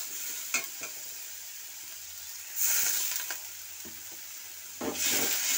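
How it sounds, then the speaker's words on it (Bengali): Spice masala fries with a little added water in a pan, a soft close sizzle and hiss with periodic stirring scrapes and bursts of louder bubbling. "জল দিয়ে ভালো করে কষাচ্ছি যতক্ষণ না কাঁচা গন্ধ যাবে আর একটা তেল ছেড়ে আসবে।"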